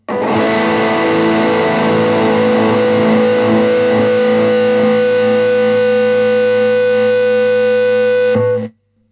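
High-gain electric guitar through a Friedman BE overdrive pedal with a noise gate, played on a semi-hollow guitar: thick distorted chords ring loud and close, then cut off abruptly into silence as the gate closes.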